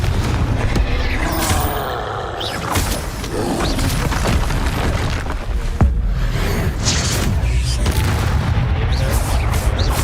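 A Confringo explosion spell cast in the video game Hogwarts Legacy, heard as booming blasts and crackling bursts over a dense, continuous wash of game sound effects lasting the whole stretch.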